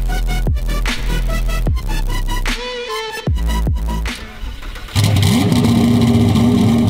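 A modified Lamborghini Murcielago, rebuilt and tuned to roughly 1,400 horsepower, roars loudly as it is driven, its engine revving hard through sharp bursts and gear changes before climbing into a sustained, rising acceleration.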